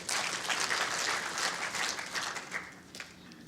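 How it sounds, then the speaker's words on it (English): Spectators at an indoor bowls championship give a short burst of polite clapping that swells and then fades away, with a few scattered claps at the end. "a little clap there for that ball"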